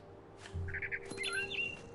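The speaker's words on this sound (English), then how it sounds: "I tried to be quiet, but the bird is really scared." A bird in the video game What Remains of Edith Finch gives a few quick, bright chirps and tweets close by, alongside soft footstep-like thuds and faint game ambience.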